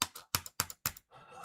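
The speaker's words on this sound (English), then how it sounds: "you do hear me clicking, right," Computer keyboard and mouse clicks come in quick separate bursts of four or five taps, close and fairly quiet, followed by a softer rustle.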